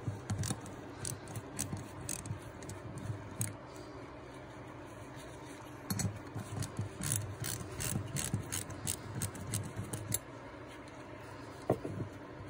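Ratchet with a 9mm socket removing the shut-off valve seat from an ATV carburetor, rapid close-up clicking in bursts with short pauses between strokes.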